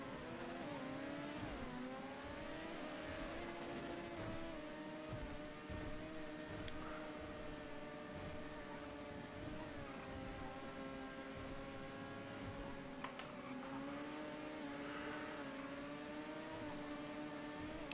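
Race cars in a GTA F2 race at the Hoover Dam circuit, engines droning steadily and close, pitch rising and falling through a fast chicane, a continuous whine with no talk.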